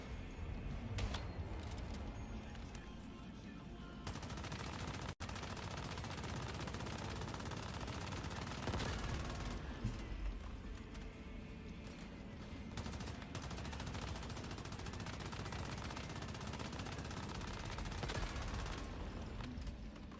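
Rapid automatic gunfire from the Once Human video game rattles in sustained bursts with occasional sharp single shots, dense and continuous throughout, with no talking over it.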